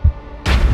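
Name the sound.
gunshot sound effect in an animated story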